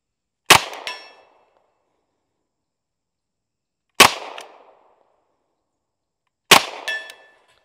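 Three single shots from an M1 Thompson submachine gun at targets outdoors: sharp, loud cracks spaced a few seconds apart, each followed by a brief metallic ring from steel targets and a short decay into silence.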